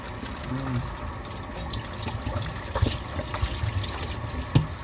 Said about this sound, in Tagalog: binalagyan ko kaya ito ng tubig